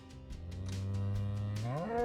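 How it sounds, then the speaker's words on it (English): A cow in the Minecraft video game lets out a drawn-out, low, close moo that swells and rises in pitch at the end, with no speech over it. "You're very noisy, Mr. Cow."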